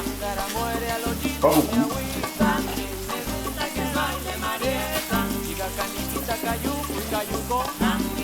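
Water poured into a hot pan of Veracruz-style fish sets off a steady sizzle. Music plays behind it, and a voice speaks briefly.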